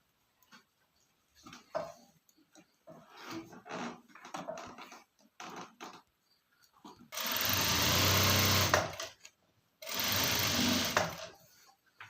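A sewing machine stitches a top in two bursts of steady, fast whirring, the first a few seconds long and the second slightly shorter, preceded by quiet clicks and small handling noises.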